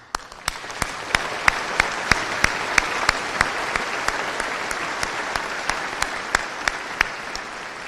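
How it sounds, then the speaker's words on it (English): Audience applause at the Bethany College 2024 commencement ceremony, continuous crowd clapping with sharp, distinct individual claps standing out at a steady rhythm over the wash, sustained for several seconds. "We applaud you."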